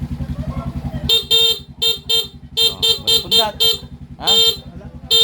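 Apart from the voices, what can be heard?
motorcycle horn honking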